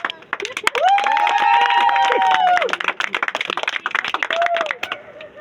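An audience at a magic show claps loudly in a dense burst of applause, joined by shouts and cheering voices over the rhythmic hand claps.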